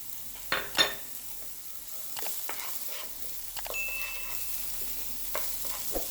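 Garlic and vegetables sizzle steadily in a pan while a spoon stirs and scrapes them in a few distinct bursts, close and moderately loud, with no talk over the frying.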